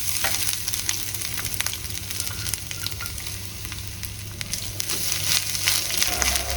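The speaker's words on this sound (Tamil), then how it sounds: "தேங்காயை போடுறேன்." Grated coconut goes into a pan of pumpkin sambar with the stove just switched off, giving a steady close crackle and scraping stir under a faint sizzle.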